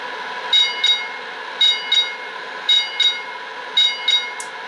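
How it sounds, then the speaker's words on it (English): The bell of an MTH RailKing Brill semi-convertible Christmas trolley model rings in paired dings, four double strikes evenly spaced over a steady electric hum. "let's hear the bell"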